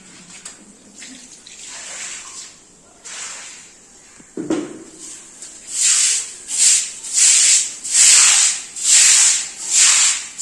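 A floor is mopped by hand after water is splashed on it, with wet rubbing strokes that grow into a steady rhythm of loud swishing passes, close by, with no talking.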